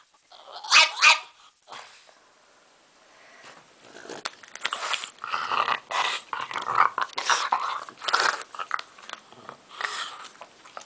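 A pet dog growls and barks in short close bursts, with snarling, mouthy sounds that come and go over several seconds, loud and near with no talk.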